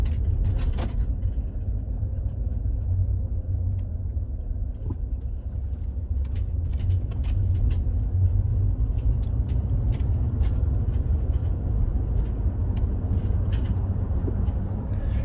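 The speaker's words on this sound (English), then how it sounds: "so just driving around, as you could hopefully hear, the rack isn't very loud" Inside the cab of a moving pickup truck fitted with a bed rack, a low road rumble and engine drone run steadily, with scattered faint clicks and light rattles over bumps.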